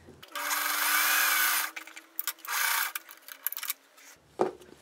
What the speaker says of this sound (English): And I am going to sew on that line.